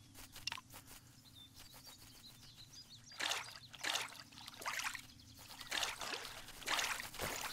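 Water trickling and splashing in the 2D survival crafting game Craft The World, heard as short bursts of pouring and dribbling that come and go over a low steady hum, with no talk.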